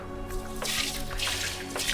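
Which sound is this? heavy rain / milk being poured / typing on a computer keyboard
milk being poured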